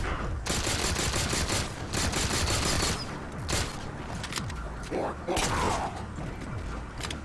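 Rapid gunfire in Halo 4 peppering an Elite to drop its shield, dense sustained bursts close and loud with brief gaps, mechanical clatter and game effects layered over the shooting.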